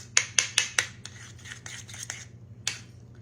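Spoon scraping and clinking against a bowl while stirring a small homemade horseradish onion dip, with four quick sharp taps at the start, softer rubbing strokes after, then one last clack, close and fairly quiet over a low hum.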